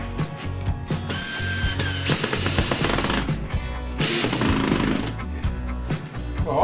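A power driver sinks screws into glued wooden parts of a commissioned woodworking piece, a loud buzzing, rattling whir in sustained bursts with short breaks, close by.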